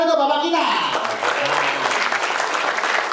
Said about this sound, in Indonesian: Tepuk tangan untuk Bapak kita.